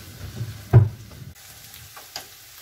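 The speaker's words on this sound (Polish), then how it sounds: "Mieszamy cały czas, żeby nam się cebula nie spaliła" Onions frying in olive oil in a pan, a close sizzle under scraping stirs with one sharp knock of the utensil against the pan, then a quieter crackle.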